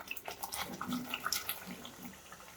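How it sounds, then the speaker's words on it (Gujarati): Water is poured into ground spice paste in a mixer jar for a Gujarati potato curry, a quiet, brief gurgling trickle with soft splashy pulses. "મિત્રો આપણે પેસ્ટમાં થોડું પાણી એડ કરી દઈશું."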